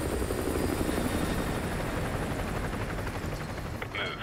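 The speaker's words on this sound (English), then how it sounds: "Chopper inbound, keep low." A military helicopter in the Modern Warfare 2 video game thuds overhead on an oil rig mission, a steady, loud rotor drone that holds throughout.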